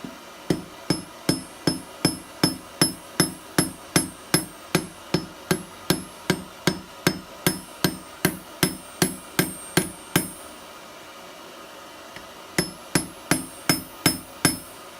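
A blacksmith hammers hot steel to square off a pair of wolf jaw tongs, sharp ringing blows landing in a quick steady rhythm for about ten seconds, then a short pause before another run of strikes.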